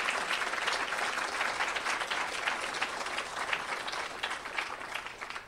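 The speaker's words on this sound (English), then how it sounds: "Jeff Cowan deserves a tremendous round of applause for all of the wonderful work that he has done," Sustained audience applause at a public service broadcasting lecture, dense and steady clapping from a large crowd continuing throughout without any speech.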